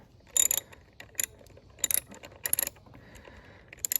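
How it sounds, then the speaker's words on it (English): A ratchet torques down a part during installation of a performance tune on an Alfa Romeo Giulia, giving several short, close bursts of crisp clicking separated by brief pauses. "I like to hold it in place with my fingers while I'm torquing this down."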